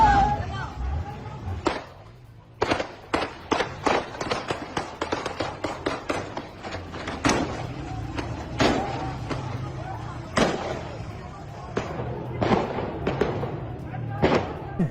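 Rapid gunfire in news footage of armed protesters clashing with the Pakistani army, sharp cracking shots in irregular bursts, some close and loud, others more distant, over a low rumbling background.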